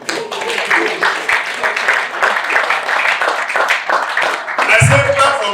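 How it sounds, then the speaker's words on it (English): An audience at a seminar talk claps in a dense, continuous patter that fills the room, fairly loud, with a voice speaking briefly near the end. "Can we clap for God?"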